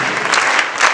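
Audience applause at a stage celebration of an Ethiopian artist's 68th birthday, a loud dense burst of clapping that fills the whole short clip.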